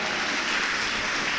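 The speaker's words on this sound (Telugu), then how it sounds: "గట్టిగా చప్పట్లు కొట్టండి, గట్టిగా కొట్టాలా." A church congregation claps loudly and continuously, a dense wash of applause with no voices over it.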